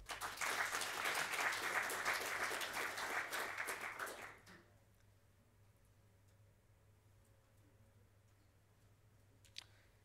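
Crowd applause at a developer conference in London, a dense steady patter of many hands clapping for about four seconds, then cutting off to near silence with one faint click.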